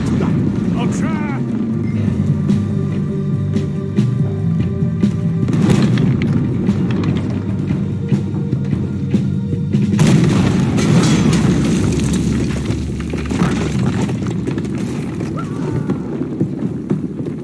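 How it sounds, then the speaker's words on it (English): Heavy cannon fire booms from a ship in the video game Red Dead Redemption 2, with deep repeated blasts and rumbling over a constant backdrop of wind, water and game music. "there's another cannon up ahead on our left"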